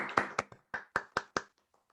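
Someone applauds a team with a handful of crisp, separate hand claps in a loose, uneven rhythm, close and clear with short pauses between them and nothing else behind them.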